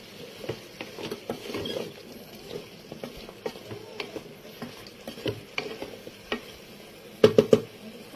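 Cauliflower, carrot and broccoli sautéing with spices in a pan for vegetable khichuri, with quiet sizzling and a steady run of scraping stirs, then a few sharper clatters near the end.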